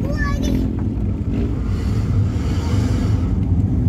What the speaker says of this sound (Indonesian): Wih, motor trail.